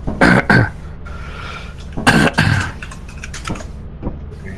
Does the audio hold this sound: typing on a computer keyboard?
yes